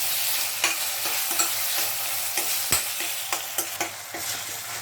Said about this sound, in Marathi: लगेच टोमॅटो घालून घ्या आणि टोमॅटो जरा मऊ होईपर्यंत परतूया